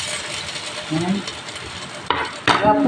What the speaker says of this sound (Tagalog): pumuputok-putok siya dahil sa mantika